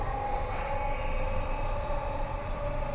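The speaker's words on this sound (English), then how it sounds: "This is a Brisbane Airport train." Brisbane Airport train running along its rails, a steady loud rumble with a sustained tonal whine throughout, the same close interior hum from start to finish.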